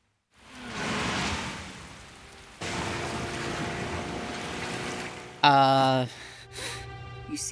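Rain pours in Master Detective Archives: Rain Code as a steady broadband hiss that shifts in intensity partway through, with a brief sharp tonal burst near the end.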